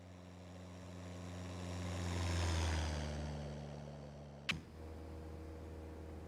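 A Cessna 172 propeller plane in the X-Plane flight simulator passes by, its engine drone swelling to a peak and fading away, followed by a single sharp click near the end.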